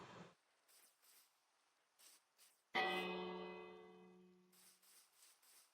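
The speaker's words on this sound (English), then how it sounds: "I can just ding the bell if I want them to get into a bed" A single bell struck in Minecraft to send villagers to bed rings out loud and close, then its clear metallic tone decays slowly over about two seconds, with faint soft shuffling sounds before and after.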